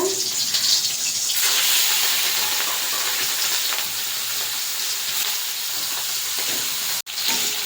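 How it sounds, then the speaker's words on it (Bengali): Shrimp frying in hot oil in a wok, giving a loud, continuous hiss and sizzle that holds steady throughout with a slight easing, ending in a brief knock. "তেল গরম হয়ে গেছে, চিংড়ি মাছগুলো এবার ছেড়ে দেব।"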